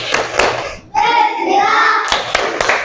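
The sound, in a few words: children doing a rhythmic spirit clap in class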